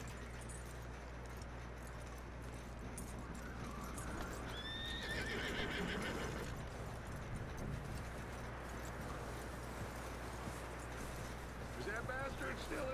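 A horse whinnies loudly with a rising, quavering call while hooves clip-clop steadily beneath, set against a constant ambient hum in Red Dead Redemption 2 on a snowy night.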